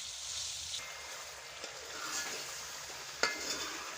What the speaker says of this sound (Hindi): तकरीबन 5 से 10 मिनट तक इसको अच्छे से फ्राई करें।